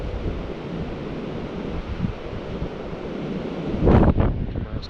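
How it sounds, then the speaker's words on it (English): Strong wind on a lake while bass fishing roars steadily across the microphone, a dense rumbling rush with a louder gust and slapping water near the end. "Super windy, man."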